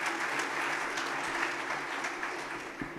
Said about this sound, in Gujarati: એવા પ્રદીપભાઈ અને મનીષભાઈને જોરદાર તાળીથી વધાવીએ.